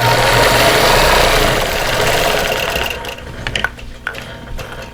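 A sewing machine quilts an embroidered quilt, whirring loudly and close for about three seconds, then stopping, leaving faint handling clicks and rustles.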